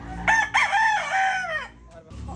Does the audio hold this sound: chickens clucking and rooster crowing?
yes